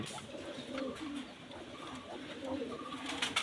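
Soft, low pigeon cooing repeats in a steady rhythm at close range, with faint chirps and light background noise.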